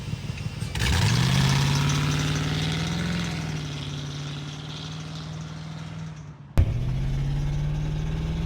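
An LS-swapped Willys Wagon engine fires up and settles into a steady, loud idle with a deep rumble, cuts off briefly, then restarts and keeps running close by.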